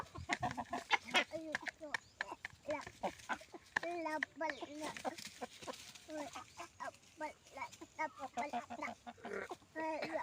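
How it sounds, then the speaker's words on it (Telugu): Four-month-old aseel chickens, roosters and a hen, cluck and call in short repeated bursts close by, with people talking at times among the birds. "ఈ ఆరు కోళ్ళు మనవే దీంట్లో నాలుగు పుంజులు ఒక పెట్ట పడింది"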